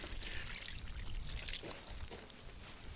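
Soup stock that has taken on a darker colour from cooked cabbage is poured into a pot, giving a continuous splashing, gurgling stream of liquid for about three seconds with no talk.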